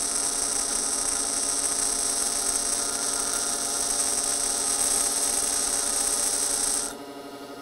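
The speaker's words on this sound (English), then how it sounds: "I'm actually going to grind both of those at the same time up against the wheel" A grinding wheel running against a high carbon steel tool, giving a steady, loud whine and hum that holds evenly, then drops sharply near the end as the tool comes off the wheel.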